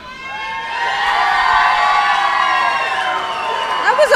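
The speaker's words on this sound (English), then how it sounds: "Looks like the crowd's behind both of them. A split crowd, half for David, half for Jesse James." A crowd split between two competitors cheers, whoops and shouts loudly and steadily for about four seconds, with some higher children's shouts mixed into the roar.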